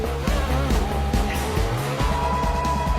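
A Formula 1 McLaren car pulling away from the pit lane during the 2011 season, its engine note climbing through quick gear changes in a loud, close whine with faint crowd noise behind.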